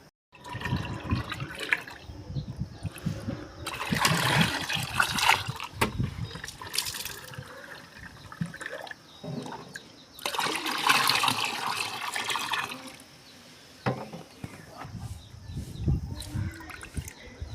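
Diluted fertilizer water pouring and splashing onto plants in several bursts, with quieter trickling pauses between them and occasional handling noise.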